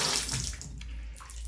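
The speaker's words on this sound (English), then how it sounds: "when you turn this on, it does the faucet" Water gushes from a faucet into a bathtub in a hotel bathroom. The steady rushing flow is close and moderately loud, lasting under two seconds.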